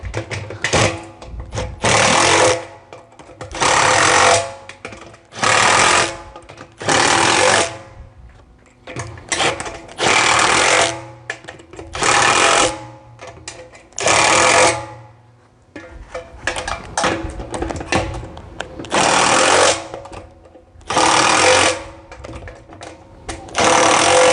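A Mini Machines AT mixer bowl runs in repeated bursts of about a second each, a loud rattling clatter that starts and stops over and over with short quiet gaps between.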